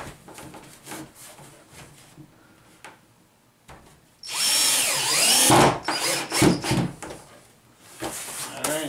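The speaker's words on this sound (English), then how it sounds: "Tack a couple screws there to hold it." A power drill drives green anodized decking screws into a barn door in a loud, whining burst of about a second and a half, followed by shorter bursts, after quieter handling sounds and some talk.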